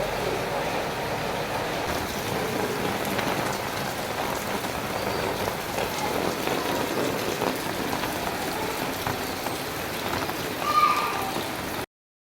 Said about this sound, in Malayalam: പുറത്താണെങ്കിൽ മഴ പെയ്തുകൊണ്ടിരിക്കുക തന്നെയാണ് കേട്ടോ